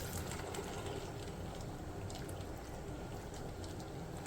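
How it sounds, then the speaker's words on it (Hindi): Hot water is poured into a pot of washed white lobia beans, making a steady, even rush of liquid that lasts throughout, close and fairly soft, with no talking. "इसके अंदर डालूँगी गर्म पानी।"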